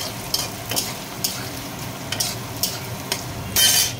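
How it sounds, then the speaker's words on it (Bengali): Paneer frying in a pan for a home-cooked pulao lunch, a steady close sizzle broken by repeated stirring scrapes of a spatula, with a louder burst of sizzling near the end. "তো এদিকে পনিরটা ভাজছি"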